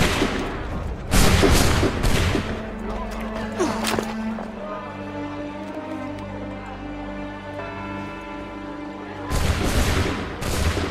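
Musket volley in Assassin's Creed 3, a burst of loud overlapping gunshots, then lingering ringing tones, and another crackling round of shots near the end; voices speak amid the firing.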